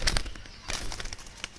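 A young Royal Teddy pigeon, a pure bloodline bird, gives a few soft, close coos. They come in short bursts with small rustling sounds in between.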